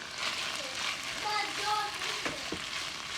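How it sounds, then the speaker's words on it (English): Onions added to chicken sizzling in a pan for fajitas de pollo, a steady broadband frying hiss with faint stirring scrapes, close and continuous at moderate level. "So I'm just gonna go ahead and add the onions in."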